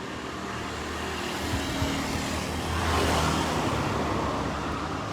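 Vehicles crossing the Kahayan Bridge in Palangkaraya make a steady, dense roar of passing traffic, swelling briefly as a louder vehicle passes near the middle, then settling back into a continuous wash of road noise.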